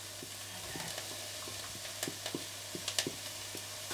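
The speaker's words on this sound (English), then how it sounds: "I'm going to give this a stir" Onions softening as they fry in a pan, a low steady sizzle broken by soft stirring scrapes and small clicks of the utensil, fairly quiet and close.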